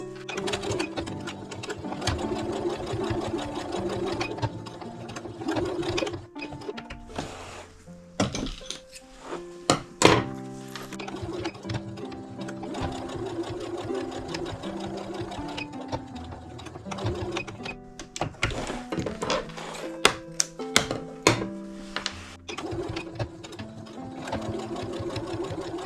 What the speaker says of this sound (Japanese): こちらも同じところをこことこことこことここ4箇所縫います